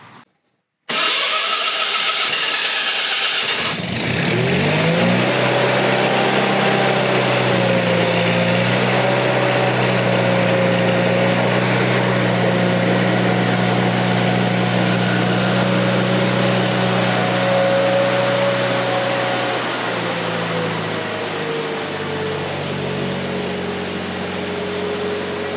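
Miller Bobcat generator welder starting up, a brief crank catching into a loud steady engine roar that settles to a running drone, with small shifts in pitch as the throttle changes, close and alone.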